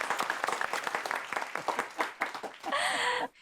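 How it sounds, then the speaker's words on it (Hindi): A crowd claps at a ribbon-cutting ceremony, a dense burst of applause lasting a few seconds before a short tonal sound cuts in and the clapping stops abruptly. "तालियां, तालियां।"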